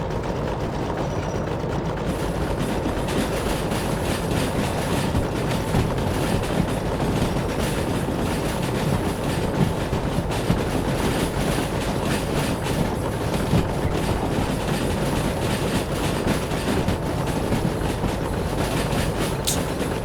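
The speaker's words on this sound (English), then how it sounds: "our poor 282 is sounding like a bag of old spanners." A damaged S282 steam locomotive running in the train game Derail Valley gives a continuous loud rumble with rattling, clanking mechanical noise and rail clatter, steady throughout with no talking.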